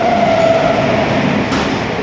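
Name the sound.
Howrah to Bengaluru express train passing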